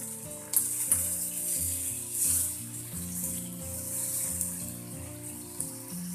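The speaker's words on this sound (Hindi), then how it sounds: "टमाटर को भूनना इसलिए है जिससे कि इसका कच्चापन हट जाए" Tomatoes frying in oil in a kadhai with a pinch of salt, cooking down for chicken angara. A steady, close sizzling hiss runs throughout with a few brief louder bursts, over a soft tonal hum.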